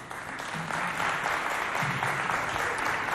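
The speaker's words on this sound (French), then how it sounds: "applaudissez bien fort pour vous, s'il vous plaît." Audience at a youth competition event applauding, a steady patter of many hands clapping at moderate distance and fairly quiet throughout.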